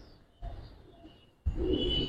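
Giribaz pigeons, a throat-puffing pair for sale, coo in two bursts, a softer one then a louder, fuller one, with faint ambient hiss between them and no talk.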